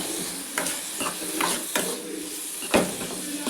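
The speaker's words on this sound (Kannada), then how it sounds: "ಇವಾಗ ಎಣ್ಣೆಯಲ್ಲಿ ಒಂದು ಎರಡು ನಿಮಿಷ ಹೀಗೆ ಫ್ರೈ ಮಾಡ್ಕೊಳ್ಬೇಕು" Bitter gourd and onion frying in hot oil for a palya, with a continuous sizzle broken by several scraping stirs of a spatula against the pan, close and fairly loud.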